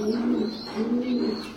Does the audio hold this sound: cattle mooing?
no